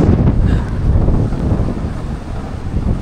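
Strong wind buffeting the microphone at a Hong Kong outdoor spot during a storm, a loud, continuous low roaring rumble with gusty surges, no voices over it.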